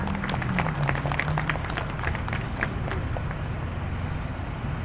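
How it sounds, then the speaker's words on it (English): An outdoor crowd at a patriot gathering in Alaska applauds steadily, dense clapping with a few scattered cheers, moderately loud and continuous throughout. "Can we give them a round of applause?"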